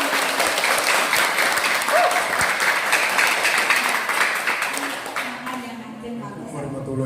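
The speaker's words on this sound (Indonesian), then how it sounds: "Kasih aplaus dulu dong untuk Pak Brigjen" Audience applause at a high school event in Baleendah, a dense, loud, steady clapping from a crowd that holds for several seconds before fading, with a voice speaking as it tapers off.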